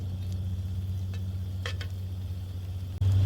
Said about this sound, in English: we're going to add our taters right here